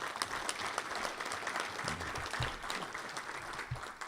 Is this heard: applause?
yes